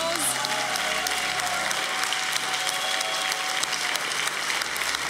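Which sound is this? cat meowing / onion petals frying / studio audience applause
studio audience applause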